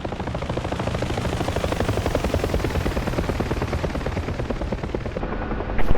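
UH-1 Huey helicopter flying at high speed in the DCS flight simulator game, a loud continuous rapid rotor thumping with engine roar throughout.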